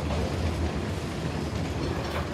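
Train in the video game Uncharted: The Lost Legacy, a steady rumbling roll with clickety-clack of wheels on track, continuous and fairly close, without speech.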